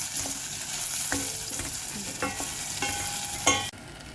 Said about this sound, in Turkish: Şimdi soğanlarım biraz kavrulsun.